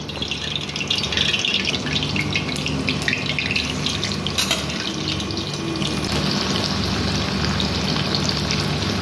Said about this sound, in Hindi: भिंडी को क्या करेंगे हल्का फ्राई करेंगे